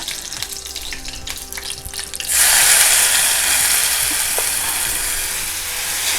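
Chopped onion and tomato hit hot oil with curry leaves and a bay leaf, bursting into a loud, steady sizzle after some quieter clinking and handling sounds, with no talking.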